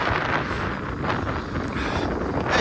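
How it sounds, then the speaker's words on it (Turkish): Strong wind on a ski slope at Erciyes Ski Center, Turkey, buffets the microphone with a steady, rushing roar that swells slightly, loud and close, with no voices. "rüzgar var"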